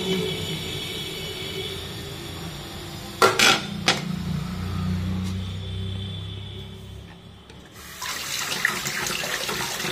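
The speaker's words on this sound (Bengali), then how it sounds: "এই দেখো পনিরটা ভালো করে জল দিয়ে ধুয়ে নিলাম।" Tap water runs steadily while paneer is rinsed at a kitchen sink. A few sharp clinks of dishes or utensils sound midway, and the water noise grows brighter and splashier toward the end. No voices are heard.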